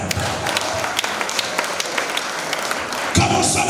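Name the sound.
audience applause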